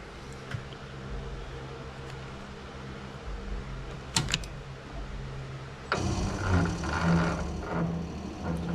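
A metal lathe running at 150 RPM as a knurling tool tracks on the workpiece, a steady close mechanical hum and whir with a brief sharp clank midway, then a louder grinding, rasping phase as the knurl bites.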